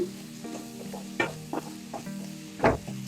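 Egg podimas mixture being sautéed in a pan, a continuous sizzle broken by several scraping stirs of a spatula, the loudest stroke coming near the end.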